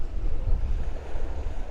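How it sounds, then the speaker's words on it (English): Sea waves lapping at the Blackpool shore, a steady low rumbling wash mixed with wind buffeting the microphone, continuous and fairly loud with no talk. "Just listen to the sound of the sea lapping up there."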